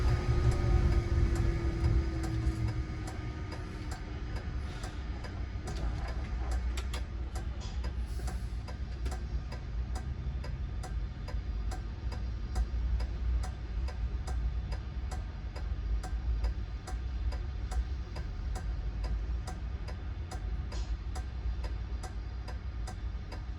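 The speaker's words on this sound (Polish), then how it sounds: "słychać tylko jedynie co słychać to pracę tego ogniwa wodorowego" A steady, low mechanical hum from the hydrogen fuel cell of an Autosan Sancity 12LFH bus runs throughout, overlaid with faint rhythmic ticking, the bus at rest.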